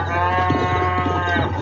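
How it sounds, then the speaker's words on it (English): Cattle in the Red Dead Redemption video game lowing in a drawn-out, tonal moo that holds steady for the full length over a low background hum. "Hello, cows."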